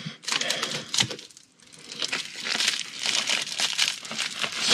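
Packaging crinkles and crumples loudly and close up in continuous bursts as an order of ground radial antenna parts is unboxed.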